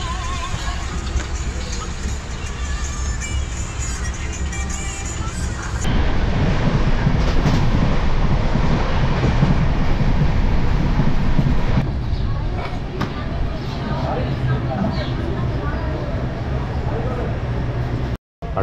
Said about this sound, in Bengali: ৪১ কিলোমিটার অতিক্রান্ত করে আমাদের ট্রেন নির্ধারিত সময় থেকে 23 মিনিট দেরিতে ভবুয়া রোডে পৌঁছেছে।